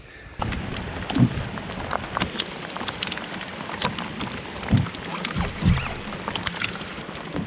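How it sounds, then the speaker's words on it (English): Rain patters steadily on a surface outdoors during a storm on a canoe trip, with scattered louder knocks and thumps mixed into the wash of drops. "it is actually starting to rain"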